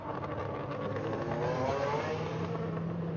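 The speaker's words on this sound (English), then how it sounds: "Next one through the tunnel, that's going to be the Stuart Larby ex-Tony Pond 6R4 in the computer vision colours." An MG Metro 6R4 Group B rally car in Computer Vision colours runs through a tunnel on a Goodwood rally stage, its engine note rising and swelling midway, moderately loud and echoing, with no voices.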